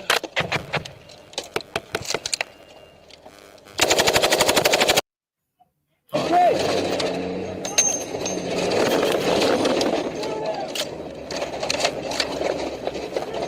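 Heavy video-game gunfire from a vehicle-mounted .50 cal machine gun engaging Taliban fighters, loud rapid bursts between sharp impacts, with a sustained dense stretch of fire and battle noise later on.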